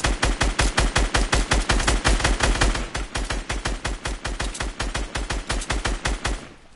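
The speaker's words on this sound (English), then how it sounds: "I'm shooting this tree." Rapid automatic gunfire in a PS4 shooter game, aimed at a tree: a steady burst of evenly spaced loud shots lasting several seconds, slightly quieter in the second half before stopping.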